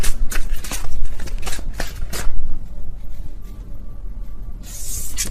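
Tarot cards being shuffled and flipped by hand, a run of quick papery riffles and slaps up close, then a softer brushing flip, with no talk.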